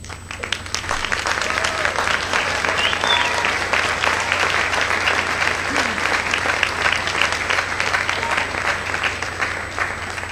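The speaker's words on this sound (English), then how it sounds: "give those folks a round of applause" An audience at a symphonic band Christmas concert applauds district band students, sustained and even clapping from many hands that fills the hall for about ten seconds over a low steady hum.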